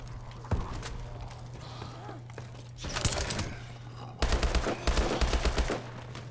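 Gunfire in the video game Call of Duty Exo Zombies: short bursts of rapid shots come in clusters, moderately loud over a low steady game hum.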